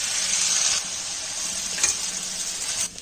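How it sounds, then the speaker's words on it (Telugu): Lemon rice with turmeric and lemon juice gets stirred in a pan on the stove, giving a steady close sizzle with soft scraping from the stirring and a brief louder clink near the middle. "ఇప్పుడు రైస్ వేసి మిక్స్ చేసుకోవాలండి."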